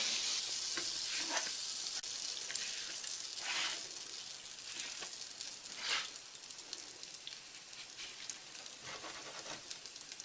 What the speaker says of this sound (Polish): i teraz będą się smażyły z obu stron na rumiano